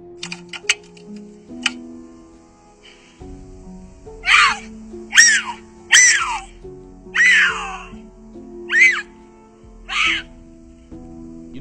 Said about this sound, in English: cougars tend to scream while mating